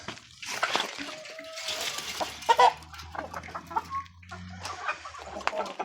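Black Andijan hens about nine and a half to ten months old cluck in a coop, with soft, irregular calls close by over a low background hum.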